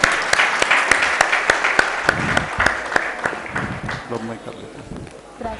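Scattered, uneven clapping from an audience at a doctors' meeting ceremony, with distinct individual claps standing out, fades as a voice begins speaking near the end.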